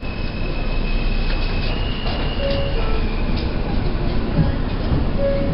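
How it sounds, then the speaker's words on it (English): A New York City Q subway train rumbles steadily along the tracks toward 96th Street–2nd Avenue, loud and continuous, with faint wheel squeals and rhythmic clacking underneath. "2nd Avenue bound Q train."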